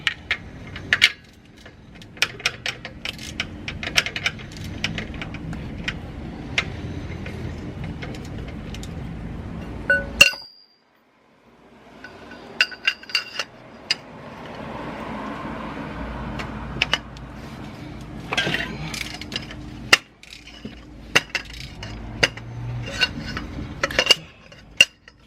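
Socket wrench working loose the downpipe bolts on a 2018 Honda Accord 1.5T, sharp metallic clicks and clanks in scattered bursts, with a short silent gap midway.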